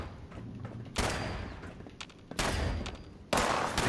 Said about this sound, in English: I don't know where they're shooting